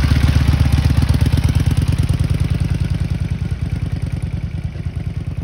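Harley-Davidson Sportster 883 motorcycle engine revving under throttle, a loud, close, rapid rhythmic thumping exhaust pulse that holds steady throughout with no talk.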